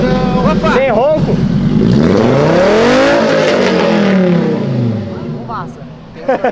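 A Toyota Supra's engine roars as it accelerates, its loud revving pitch climbing and then falling away, with people talking over it.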